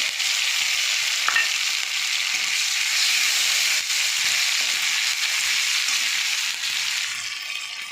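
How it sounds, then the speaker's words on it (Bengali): Onions, ginger and garlic with a little black pepper fry in a pan, giving a steady, loud, dense sizzle that runs unbroken with faint scraping stirs. "আমার পেঁয়াজ ভাজা ভাজা হয়ে গেছে, আর আদা রসুনটা দিয়ে দেবো।"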